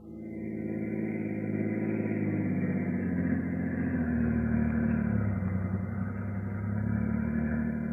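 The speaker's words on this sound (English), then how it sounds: "I've got my car. We'll go for a drive." Steady car engine drone for an old-time radio drama, a sedan cruising along a highway, loud and continuous with a gentle swell in pitch and no voices over it.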